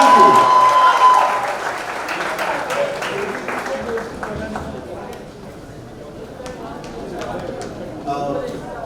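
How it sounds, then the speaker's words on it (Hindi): A crowd at a celebration rally claps loudly in a dense burst that gradually thins and fades, then picks up again briefly near the end, with voices talking underneath. "एक बार हमारे सारे media friends के लिए जोरदार तालियां होनी चाहिए"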